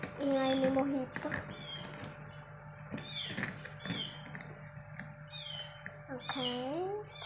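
A pet cat meows loudly at the start and again near the end, with a voice and light household sounds in between.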